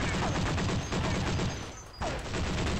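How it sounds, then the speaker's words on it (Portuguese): Dense, continuous gunfire in Counter-Strike crackles and pops throughout, with a brief dip before the shooting picks up again, loud and busy like an intense firefight. "Eu tô escutando tiro pra lá"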